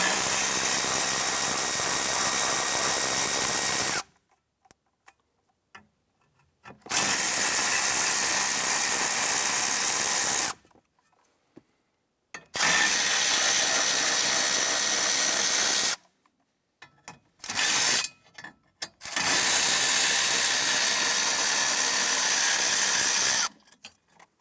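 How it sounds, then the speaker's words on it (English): A power ratchet or socket tool with a 10mm socket running on bolts of a lower metal panel in a 2008-2013 Nissan Rogue, loud and close, in four long whirring bursts separated by quiet pauses. "Remove this lower metal panel here using a 10mm socket."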